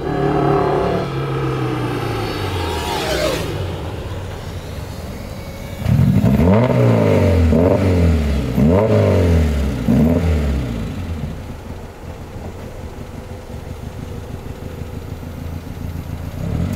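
A Lada 2101 Gruppe 2 race car engine idles, then revs repeatedly in several rising and falling surges before settling back to a steady idle, close and loud.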